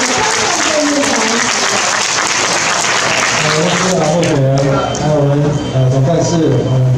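A crowd at a Yunlin campaign office event gives loud, sustained applause to welcome vice-presidential candidate Chang San-cheng. Voices are heard over the clapping toward the end.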